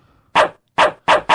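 A dog barks four times in quick, loud bursts separated by short silences, heard during a live-streamed show.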